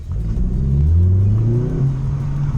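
Vauxhall Corsa fitted with a Cobra Sport exhaust accelerating hard, a loud close rumbling exhaust note rising in pitch through the revs with no talk.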